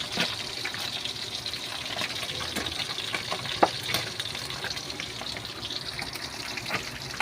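Paksiw galunggong fish with okra refried in a little oil, giving a steady close sizzle and crackle with scattered sharp pops and spatters throughout.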